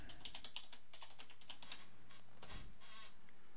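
Typing on a computer keyboard to enter a search, a quick run of soft, faint key clicks in an irregular patter, close and quiet, with no talk.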